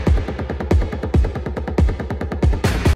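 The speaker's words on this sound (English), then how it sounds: "Helicopter, helicopter." A rhythmic helicopter-style effect in a future bass track, loud chopping pulses repeating rapidly and evenly with a heavy low end, alone without talk.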